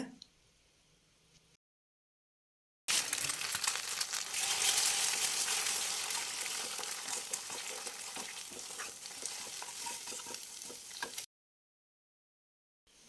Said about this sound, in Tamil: ஒரு கடாயில் 2 டேபிள் ஸ்பூன் எண்ணெய் விட்டுட்டு ஒரு 2 முட்டை சேர்த்து நல்லா வறுத்து எடுத்துக்கலாங்க